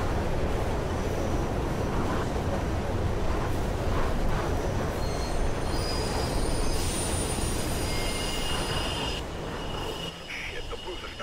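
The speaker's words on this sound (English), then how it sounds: "There's a train coming behind you." Trains in a tunnel in the video game Mirror's Edge, with a loud continuous rumble and roar of a train rushing close behind, metallic screeching overhead, fading slightly near the end.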